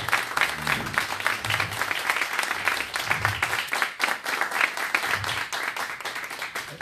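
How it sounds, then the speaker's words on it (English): A crowd at a public talk on war gives a sustained round of applause, dense overlapping clapping at a steady level for the whole stretch, with a few brief voices mixed in. "So one more round of applause for Batman, the gentleman, and all of us who are here"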